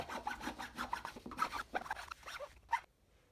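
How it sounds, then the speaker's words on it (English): Hand files rasp across a PVC part in short, rhythmic strokes, a series of close, scratchy scrapes that stop near the end. "Using various files, I enlarge the cut lines on the pineapple."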